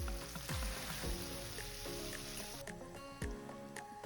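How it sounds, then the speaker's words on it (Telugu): Whole garam masala spices, green chillies and onions with a little salt frying in hot oil in a pan for a Hyderabad-style vegetable dalcha, a steady close sizzle with a few soft clinks of a spoon. "హోల్ గరం మసాలా స్పైసెస్ వేసి 4 పచ్చిమిరపకాయలు, 2 ఎర్రగడ్డలు, కొంచెం ఉప్పు వేసి బాగా వాడనివ్వాలి."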